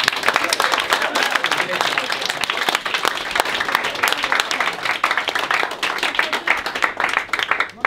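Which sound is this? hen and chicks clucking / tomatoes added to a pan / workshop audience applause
workshop audience applause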